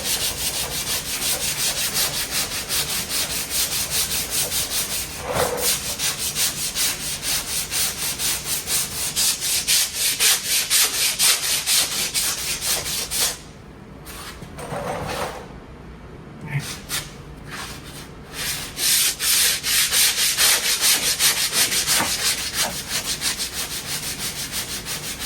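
Sandpaper rubs in rapid repetitive strokes over the bodywork of a 1972 Buick Skylark. The scratchy sanding is steady and close, with a brief lull midway before it resumes.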